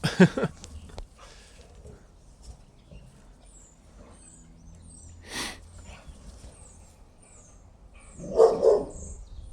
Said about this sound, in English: Oh, next door's dogs are out.